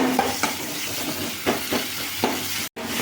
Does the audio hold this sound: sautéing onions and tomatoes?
yes